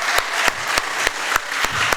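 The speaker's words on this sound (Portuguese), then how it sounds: "Você pode dar uma salva de palmas para o Senhor?" A church congregation claps in praise with a steady rhythmic beat, sharp unified claps landing about every third of a second over a continuous wash of scattered clapping.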